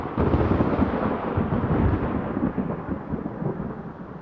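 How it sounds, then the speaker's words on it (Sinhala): Loud, continuous rumbling thunder rolls on for several seconds, dense and low with no clear break, like a heavy storm close by. "මෙන්න මේ වගේ අකුණු හඬ."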